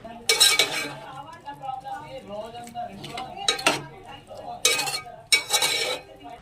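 A ladle scrapes and clanks against a pot while tomato chicken curry is stirred, irregular metallic clinks and scrapes coming in short bursts with quieter gaps between.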